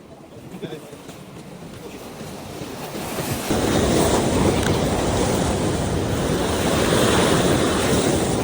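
Strong ocean waves surge against a rocky shore where people fish from the rocks, a steady roaring wash that swells louder midway and stays heavy, with wind buffeting the microphone.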